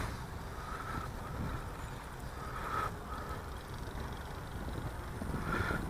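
Steady wind buffets a microphone outdoors on a breezy morning at a model airplane flying field, a continuous low rumble with occasional louder gusts and no talking.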